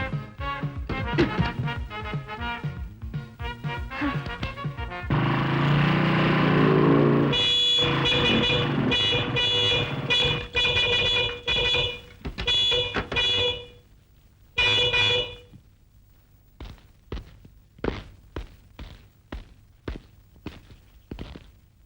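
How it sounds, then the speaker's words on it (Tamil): Loud bursts of car horn honking repeat in uneven blasts, some long and some short, with brief quieter gaps and street noise between them, from a car with starting trouble. "ஏயா ஹார்ன் இந்த அடி அடிக்கிற"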